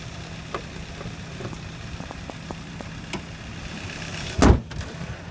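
Hood of a 2013 Kia Sportage with a turbo GDI engine dropped shut, a single loud metallic thump near the end after light handling clicks, with no talk.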